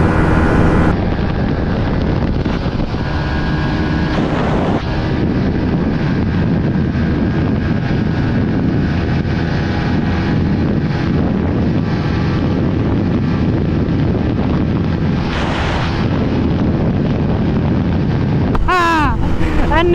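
A Yamaha MT-15 motorcycle runs flat out in a drag race. Heavy wind buffeting and a steady engine drone carry on throughout, with a brief rising whine near the end.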